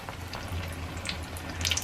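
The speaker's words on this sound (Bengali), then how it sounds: "আর এর মধ্যে ছেড়ে দিলাম রুটিটাকে মিডিয়াম হিটে এগুলোকে ভেজে নিতে হবে" Roti frying in hot oil over medium heat, a soft, uneven bubbling sizzle with a few brief crackles, close and fairly quiet, no talking.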